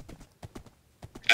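Horse hooves clip-clop in a multiplayer video game, a few quick paired steps spaced across the moment with brief quiet gaps between them.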